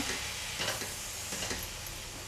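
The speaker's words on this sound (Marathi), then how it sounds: "आणि आता आपण हे व्यवस्थित असं परतून घेऊया" Cowpeas sautéed with salt for a Maharashtrian banana flower bhaji, a loud close sizzle with stirring scrapes in the pan throughout a short burst.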